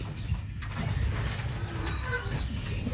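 Pigeons coo in a pigeon loft housing young chicks, a steady low murmur of calls with faint chirps mixed in and no talking.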